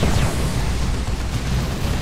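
A grenade explosion in the video game Retribution: a loud, sustained, rumbling blast with dense low-end roar lasting throughout, with no talk over it.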